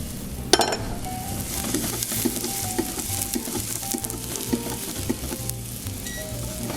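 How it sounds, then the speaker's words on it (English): Garlic sautéing in hot olive oil for a cioppino fisherman's stew, a steady close sizzle broken by repeated clinks and scrapes of a utensil against the pan, one sharp knock near the start. "let's get our garlic in there first, but just be careful. Garlic burns very fast"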